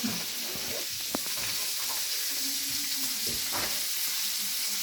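Bacon and vegetables fry in a pan, giving a steady close sizzle with a few soft scrapes from stirring and no voices.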